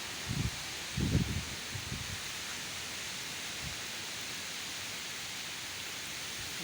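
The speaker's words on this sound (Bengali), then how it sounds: "অনেক বাতাস" Strong wind in a village during a rainstorm, a steady broadband rush with a few low gusty thumps against the microphone near the start.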